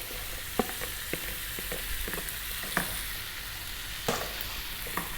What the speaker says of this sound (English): we're just going to fry this around for around 8 to 9 minutes